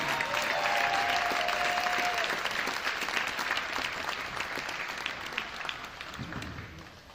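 A gym crowd at a high school basketball game applauds senior boys players with sustained, dense clapping that slowly fades near the end, with faint voices mixed in.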